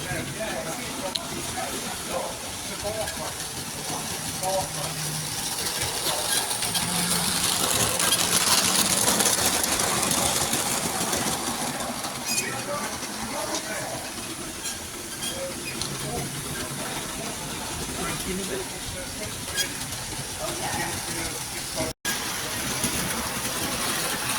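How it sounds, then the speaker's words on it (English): A miniature railway model steam locomotive runs at the Fairbourne Miniature Railway gala, giving off a steady hiss and engine chuff that swells midway, heard alongside background voices and outdoor bustle. "Next we have that model of Thomas's basis running."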